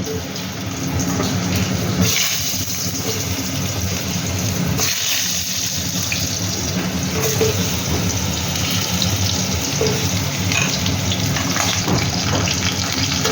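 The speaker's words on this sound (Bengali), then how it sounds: "তেল গরম হয়ে গেছে, এবার আমি এই আলুগুলো একটু তেলে ভেজে নেব।" Potatoes frying in hot oil for a mutton curry, a loud steady rushing hiss like running water that keeps going, close and unbroken, with brief dips in intensity and no voices.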